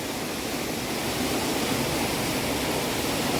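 West Aubinadong River in remote Northern Ontario flowing steadily, a constant broad rushing wash of water heard up close and alone, without voices.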